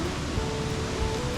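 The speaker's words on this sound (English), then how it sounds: "the sound of the river" The river at Glen Ellis Falls, New Hampshire, rushes as a steady, loud broadband wash of flowing water with no breaks.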